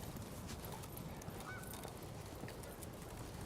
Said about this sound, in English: goose just swimming and honking, swimming and honking